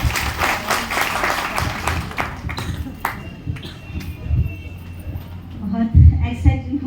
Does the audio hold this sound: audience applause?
yes